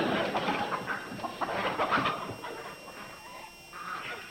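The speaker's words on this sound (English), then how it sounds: "Just some chickens cackling in the lobby." A flock of chickens clucks and cackles in a busy, overlapping chorus, fairly close, with no talk.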